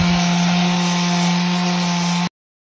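A steady, loud mechanical whir of a power sander running continuously over flexible filler on costume armour, with a constant hum, cutting off abruptly near the end.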